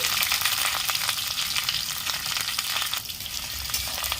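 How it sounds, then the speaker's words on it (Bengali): Chopped onion, ginger and garlic sizzling in hot oil while being stirred, a loud continuous hiss broken by scraping and spatter bursts close by, with no voices. "মশলাটা একটু নেড়ে নেবো পেঁয়াজ আদা কুচি রসুন কুচি"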